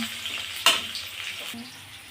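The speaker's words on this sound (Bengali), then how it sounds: "দেখুন এটা ভাজা ভাজা হয়ে যাচ্ছে।" Pieces of green banana fry in a pan with a soft, steady sizzle and a couple of brief stirring clatters, close and fairly quiet.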